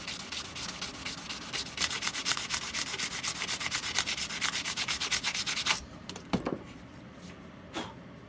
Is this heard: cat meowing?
no